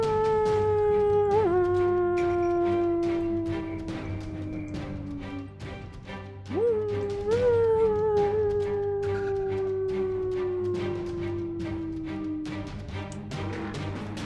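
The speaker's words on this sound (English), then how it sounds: "this chorus of voices howling to the moonlight and seemingly calling to it." A chorus of voices howling to the moonlight, with two long sustained howls that each slide slowly downward in pitch, loud and layered over faint clattering ticks.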